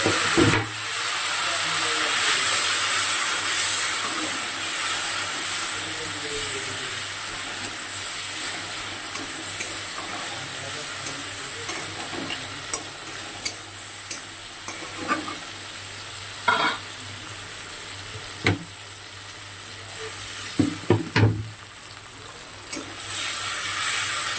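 A little water is poured into spices frying in a pan, setting off a loud, steady sizzle and hiss. Scattered stirring clicks and scrapes run through it, and the sizzle eases slightly toward the end.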